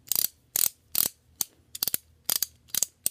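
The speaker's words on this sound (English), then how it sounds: "Now, with this ratchet screwdriver" Ultra Steel ratchet screwdriver from a 65-piece set clicking close up in quick repeated bursts of sharp ratcheting ticks, separated by brief pauses.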